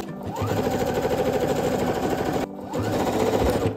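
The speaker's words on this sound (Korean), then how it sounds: "그 다음 파이핑 아래로 쭉 상침해주세요" Sewing machine topstitching below the piping on pajama pant hems, a loud, close, fast needle rattle that runs continuously, breaks off briefly, then resumes.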